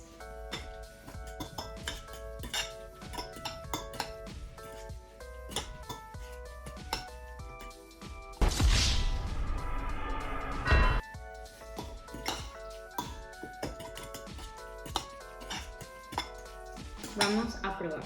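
Guacamole being stirred in a bowl with a utensil, giving steady clinks and scrapes of metal on the bowl, with a louder burst of clatter partway through.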